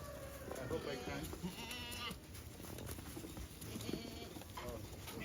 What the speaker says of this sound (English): Somebody will catch that goat for me here in a minute.